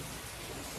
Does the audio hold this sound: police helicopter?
no